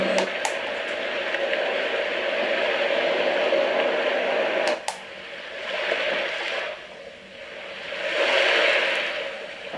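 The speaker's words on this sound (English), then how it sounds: "Here are the 2 ocean sounds." A Sztrokia white noise sound machine plays two ocean-wave settings. Hissing surf swells and recedes in slow waves behind a constant noise bed, with button clicks between settings.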